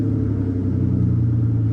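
Engine-swapped Aston Martin DB9 engine revving, a loud, close, steady low rumble held without stutter for under two seconds.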